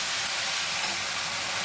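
Water poured into a hot pan of frying curry, giving a loud, close, continuous steamy hiss and sizzle that holds steady throughout the short moment.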